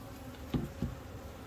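Honey bees at an opened hive during a colony inspection for swarm cells: a low, steady insect hum runs throughout, with two brief louder bursts of buzzing close by.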